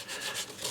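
Sanding on the wood of a custom quilted mandolin, a steady close abrasive rubbing with gentle surging strokes, no voices.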